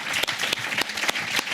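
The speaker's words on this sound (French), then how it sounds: "On vous applaudit." An audience applauds at the close of a round-table morning session on podcast use in France. The clapping is dense and steady, with a few sharper individual claps standing out, and no voices over it.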